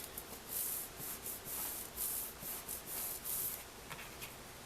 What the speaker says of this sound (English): we're going to go just shy of that score line. Just a hair off of it and burnish it down.